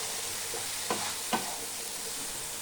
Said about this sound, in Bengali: এইগুলোকে সব কিছু মশলাটাকে দিয়ে ভালো করে সুন্দরভাবে ভেজে নেব